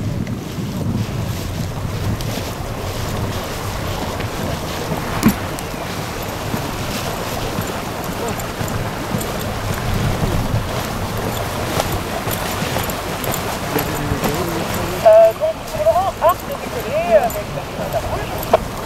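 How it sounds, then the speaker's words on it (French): Steady breeze buffeting a microphone at a paragliding landing field in Samoëns, a continuous low rumbling wind noise throughout, with a brief voice near the end. "Il y a un peu plus de brise que tout à l'heure"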